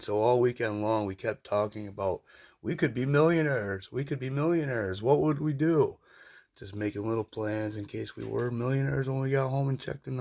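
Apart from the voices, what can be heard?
No distinct noise like a dog, phone or traffic.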